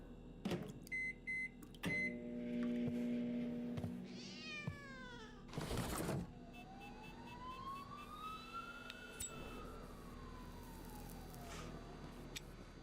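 A cat meows a few times in The Operator video game, with electronic tones, a rising and falling siren-like sweep and other game sounds around it.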